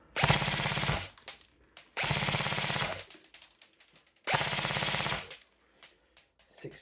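A toy foam blaster with T238 brushless motors fires in three rapid bursts of roughly one to one and a half seconds each, a loud mechanical rattle of quick shots with short quiet gaps between them.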